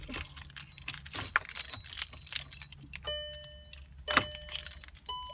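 Keys jangle in the ignition as a car is switched on, with bright metallic clinks, then steady electronic chime tones sounding from the dashboard midway through.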